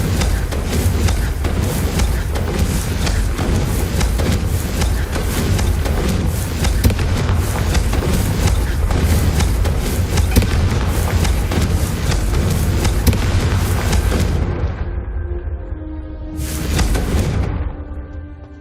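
Confringo fire spells in Hogwarts Legacy burst in a dense, continuous barrage of loud booming explosions and crackling rumble that fades, then flares once more near the end.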